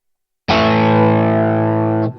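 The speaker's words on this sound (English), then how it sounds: "That's a nice little reverb, little delay" A single distorted electric guitar chord played through a TC-Helicon VoiceLive 3 with reverb and delay rings out sustained for over a second, thick with effects, then cuts off sharply.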